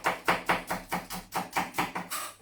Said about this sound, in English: Chopping up all the onions.